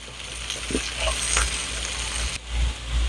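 Cashews, ginger and garlic sautéing in a pan give a steady close sizzle and fry, with a few soft scrapes of stirring, and no talking.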